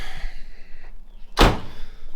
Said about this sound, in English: Get that door shut up.